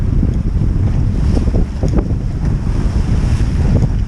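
Waves and strong wind roar steadily around a sailboat beating upwind at sea off the English coast, with loud gusty microphone buffeting and irregular splashes of water against the hull throughout.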